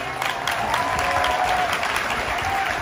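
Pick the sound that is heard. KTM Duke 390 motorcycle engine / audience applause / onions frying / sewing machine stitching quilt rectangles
audience applause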